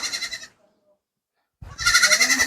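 A goat bleats loudly and close by in a wavering, nasal cry, goes quiet for about a second, then lets out another long bleat.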